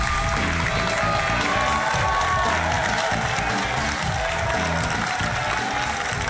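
A television quiz show's studio audience applauds loudly and continuously for the three contestants, with some cheering and music underneath the dense clapping.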